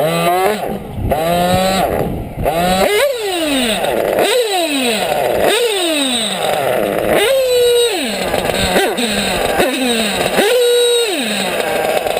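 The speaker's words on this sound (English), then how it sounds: "But this engine is very nasty, especially with ceramic bearings in it now." Modded RCR 28.8 Rex nitro engine in an RC buggy with ceramic bearings, screaming through repeated sharp revs and quick throttle drops, loud and close with a shrill high-pitched whine.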